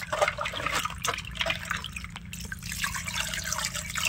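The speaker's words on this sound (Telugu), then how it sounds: "ఇప్పుడైతే ఏమంటే చింతపండు నీళ్ళు అయితే తీసేసుకుంటున్నా." Tamarind water being poured while making a fish curry, heard as close, wet trickling and dripping with uneven splashes over a few seconds.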